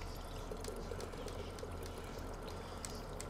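A steady, continuous pour of water while drinking in Prey, a soft sloshing trickle lasting a few seconds under a low hum, with no voices.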